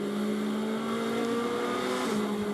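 Onboard sound of a GT race car at Barcelona during GT World Challenge Europe pre-qualifying, a loud, steady engine drone with strong harmonics that shift slightly in pitch as it holds revs through corners.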